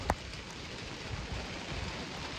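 Rain falls on an oat field ready for harvest, a soft steady hiss with a faint brief tap near the start, fairly quiet and without voices.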